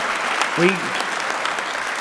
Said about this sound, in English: We can clap for all the names.